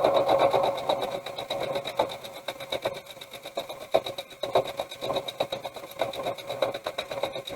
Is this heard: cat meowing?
no